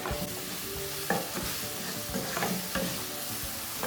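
Mashed banana and nuts stirred in ghee in a pan, a steady soft sizzle with periodic scraping strokes of the spoon every second or so, close and alone.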